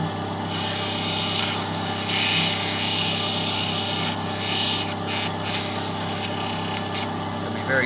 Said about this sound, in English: The old sandpaper.